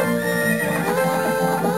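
A horse whinnies in Zelda: Ocarina of Time, one loud, clear neigh with a wavering pitch lasting under two seconds, heard alone.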